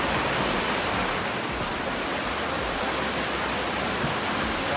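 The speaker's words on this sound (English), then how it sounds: "I love the sound of the water." Water flowing below an outdoor lunch spot in Armenia, a steady broadband rush like a stream or small waterfall, continuous and fairly loud throughout with no talk.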